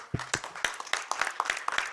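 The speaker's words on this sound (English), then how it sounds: "I want to just give them a round of applause and a shout out too" Scattered, fairly faint clapping from a small group at a council meeting, in honour of local businesses, with individual claps clearly separated in an uneven rhythm.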